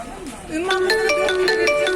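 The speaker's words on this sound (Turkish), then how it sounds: "Telefon çaldı o arada." A phone ringtone sounds indoors while someone speaks at an Eminönü market setting: a bright repeating electronic melody of short tonal notes sets in after a spoken phrase and continues steadily.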